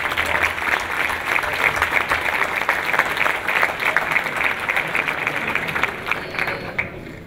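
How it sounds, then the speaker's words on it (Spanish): An audience at a product launch for ViñaCHY claps in a sustained, dense round of applause, loud and even throughout before tapering slightly at the end. "sí, un aplauso."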